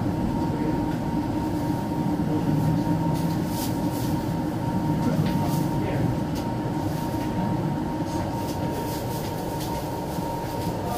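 A new sleeper express train from Bangkok to Chiang Mai gives a steady, close rumble from inside the carriage, continuous and moderately loud with faint rattles on top.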